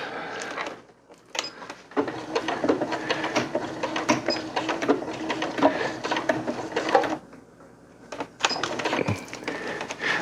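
Sewing machine stitching a backpacking tarp runs in two stretches, a close, busy mechanical chatter broken by short pauses, with no voices over it.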